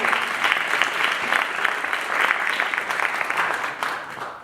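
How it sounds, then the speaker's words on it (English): An audience applauds Tango South London dancers with dense, steady clapping that holds for several seconds and tapers slightly at the end, close and continuous. "a big round of applause to all the people that came from Tango South London"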